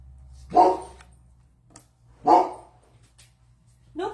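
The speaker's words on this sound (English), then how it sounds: "No barking. Are you coming in? Well, then no barking." A dog barks twice, loud and close, with a pause between the barks and a third bark starting at the end, over a faint low hum in a quiet room.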